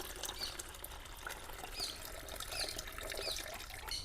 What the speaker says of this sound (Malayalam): അത് വെള്ളമാണ് ഒഴിക്കുന്നത്